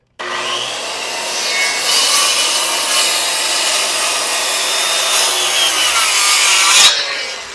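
A sawmill blade cuts a timber frame tenon into a 6-inch board, giving a loud, steady rasping wood-cutting sound that runs about seven seconds before stopping abruptly near the end, with no talk.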